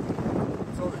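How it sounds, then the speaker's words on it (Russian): Strong wind buffeting the microphone on the foggy summit of Lewotolok volcano on Lembata island, Indonesia: a continuous low roaring rumble, loud and close, with no clear pauses. "Ветер очень сильный, туман."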